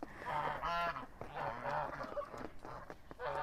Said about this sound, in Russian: Гуси, сейчас надо их напоить.